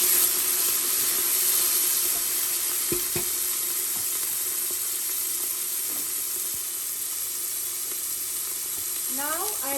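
Green chili paste sizzles steadily in a hot frying pot of oil for a meat yakhni pulao, a constant bright hiss broken by a few soft scraping stirs, with no talk over it.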